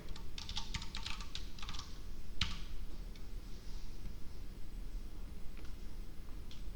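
Rapid typing on a computer keyboard while writing Java code, heard close up as dense bursts of light clicking keystrokes over a steady background hum, with one louder key strike partway through and sparser taps afterward.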